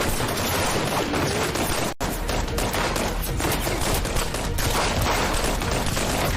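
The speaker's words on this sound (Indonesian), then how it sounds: "Di situ terjadilah aksi adu tembakan antara tim polisi dan anak buah kartel" Dense, continuous gunfire in a shootout between police and cartel gunmen, rapid overlapping shots and bursts filling the whole stretch, loud and close with a momentary break near the start.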